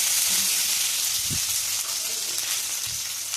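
Garlic fries lightly in hot oil for a Tamil chicken dish, giving a steady, fairly faint sizzling hiss with a few soft clicks and pops.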